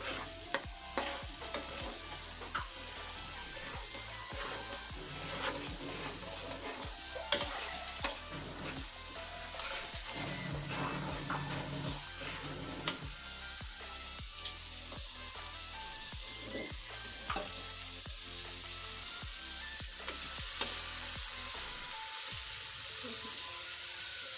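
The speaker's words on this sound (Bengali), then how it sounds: "এদিকে মশলাটা তেলের মধ্যে একটু কষিয়ে দিচ্ছি" Spices fry in hot oil in a pan while being stirred, giving a continuous close sizzle with frequent scraping and clinking of the spoon throughout.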